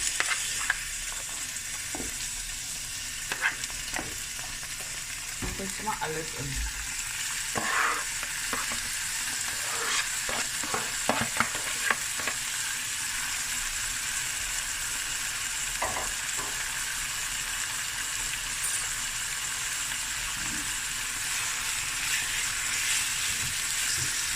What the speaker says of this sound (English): So we're going to fry this with the onions on a medium to low heat.